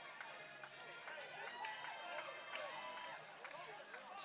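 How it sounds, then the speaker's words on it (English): A Lufkin Panthers home crowd cheers and roars after a home run at a high school baseball game against the Huntsville Hornets, a steady wash of distant crowd noise under a commentator's talk. "And this Lufkin crowd is going crazy."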